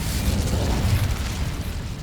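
Incendio fire spell cast in the video game Hogwarts Legacy, a dense, loud whooshing roar of flame with a heavy low rumble sustained throughout.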